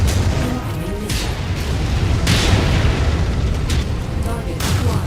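A missile blast in the mech combat game MechWarrior 5: Mercenaries, a heavy broadband boom around the middle that swells out of a constant loud roar of battle rumble and weapon noise lasting the whole stretch.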